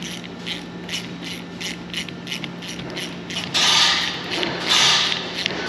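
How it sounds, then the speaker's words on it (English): A ratchet fitted with a half-inch socket tightens bolts while working on a Kenworth W900 truck, giving steady rapid clicking with bursts of louder, harsher ratcheting near the end. "I need to get a 1/2 inch socket for these bolts so I can tighten them up."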